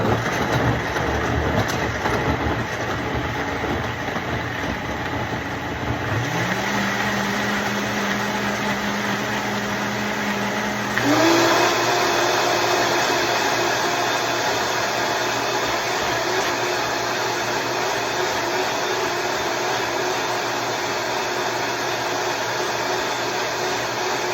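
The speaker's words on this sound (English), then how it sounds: "so I'm gonna blend this up, and then I'm gonna show you what to do after you blend it." An electric blender blends ginger with a continuous loud whirring motor drone, its pitch stepping up twice as it runs steadily throughout, with no talking.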